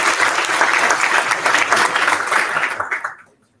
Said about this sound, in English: can you please support me with a round of applause?